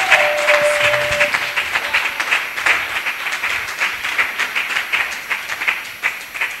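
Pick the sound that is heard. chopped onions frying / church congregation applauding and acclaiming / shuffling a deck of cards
church congregation applauding and acclaiming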